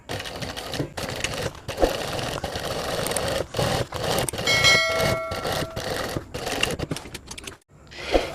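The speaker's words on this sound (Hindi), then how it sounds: "दोनों को बराबर रख कर हम फिर इसे सिलाई करेंगे इस तरह से" A sewing machine stitches two layers of backpack fabric laid evenly together, a steady mechanical whirring in bursts broken by short pauses, close and fairly loud.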